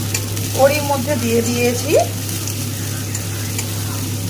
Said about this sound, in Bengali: তেলের মধ্যে ফোড়নে দেব এলাচ, লবঙ্গ আর দারুচিনি একসাথে তেলের মধ্যে দিয়ে দেব